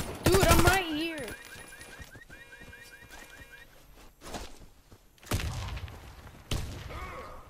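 Video-game gunfire cracks loudly in a brief burst at the start, followed by a few sharp, distant-sounding shots and thuds amid quieter game sounds.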